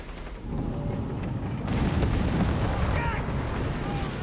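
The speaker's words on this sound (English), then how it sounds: "taking a lot of bazooka fire here" Upgraded bazookas in Company of Heroes 3 pound a German StuG assault gun, a dense, continuous barrage of overlapping blasts and gunfire that swells louder partway through, with no clear gaps between shots.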